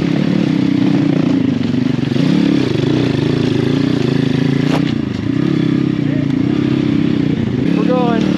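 A pit bike's engine labours up a rocky enduro hill climb, held at a steady mid-pitch drone with rattling and scraping from the trail, loud and close throughout with one brief dip near the end.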